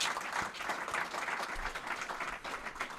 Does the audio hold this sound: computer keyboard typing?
no